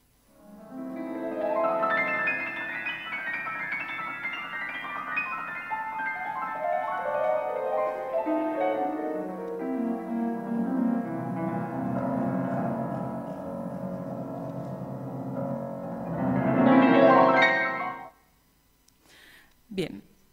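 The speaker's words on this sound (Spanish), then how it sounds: "Vamos a escuchar aquí un fragmento de los Juegos de Agua de Ravel" Solo piano playing an excerpt of Ravel's Jeux d'eau, with rippling cascades of notes sweeping up and down the keyboard and glittering high-register figures, building to a dense climax before fading to silence.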